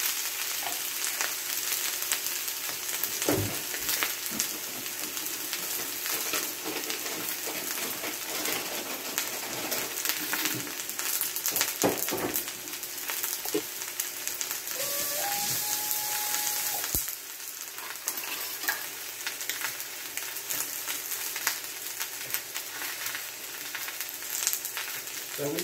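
Vegetables for a Korean-style stir fry sizzle steadily in a hot pan, a constant close hiss with occasional clatter of stirring and a few sharp knocks, and no talking.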